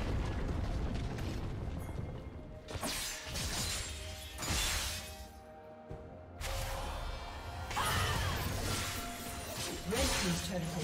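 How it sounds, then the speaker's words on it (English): A turret being destroyed in League of Legends, Katarina versus Tristana in the mid lane, heard as loud crashing, shattering bursts and booms over dense game effects and music that run throughout. "Red team's turret has been destroyed."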